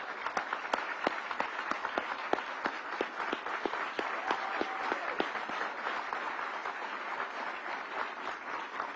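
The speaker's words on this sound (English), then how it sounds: "I think we need to give the governor another standing round of applause" A crowd at a press conference gives the governor a standing round of applause, dense steady clapping that carries on throughout at moderate volume.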